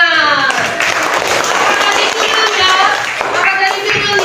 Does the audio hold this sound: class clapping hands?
yes